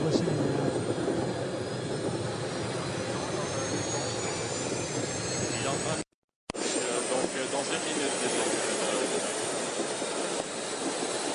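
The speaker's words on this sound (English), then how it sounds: "those engines are ignited" Jetpack jet engines roar steadily at close range with a loud, rushing whine, briefly cutting out for a moment before resuming at full force.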